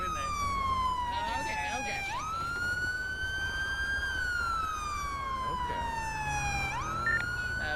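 A police siren in GTA 5 sweeps steadily up and down between wailing pitches, loud and continuous throughout, with faint background noise beneath.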